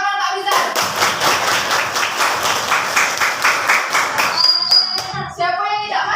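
Schoolchildren in an elementary classroom break into a burst of lively group hand clapping, dense and close for several seconds, then a teacher's voice and a few small claps as it fades.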